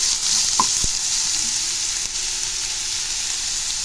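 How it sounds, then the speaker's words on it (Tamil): Onions sautéing with ginger and garlic in a pan for a potato egg gravy: a steady bright sizzle throughout, with a couple of soft stirring knocks near the start, no voices. "இப்போ அடுத்ததாக வெங்காயம் ஆட் பண்ணிக்கலாங்க. இது நல்லா வதக்கிடலாம்."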